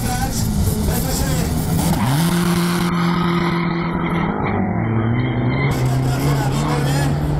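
The Fekete Tamás G1 race car engine runs loud and close, a steady droning roar whose pitch steps up and then settles, sustained throughout without pause.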